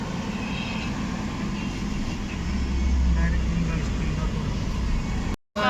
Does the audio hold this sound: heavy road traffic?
yes